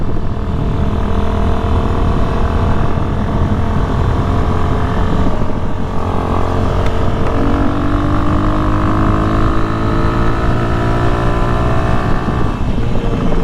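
A motorcycle bought online revs hard while climbing uphill, the engine drone steady and loud with rising pitch sweeps as it accelerates and holds speed, heard from the rider's position with wind rush and no talking.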